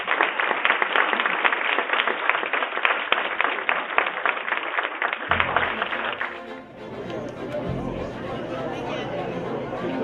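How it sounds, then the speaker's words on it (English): Applause from a crowd at a community gathering in Arlington, a dense steady patter of many hands clapping that fades partway through into a murmur of crowd chatter and low rumble. "I'd like to call for a round of applause."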